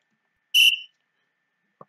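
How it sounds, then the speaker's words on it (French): A referee's whistle gives one short, sharp, shrill blast, followed by silence and a faint soft knock near the end. "Petit coup de sifflet de l'arbitre."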